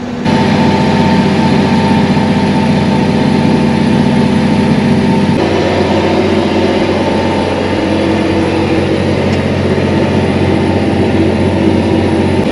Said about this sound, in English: We're gonna let this tractor warm up, and then we'll get cultivating.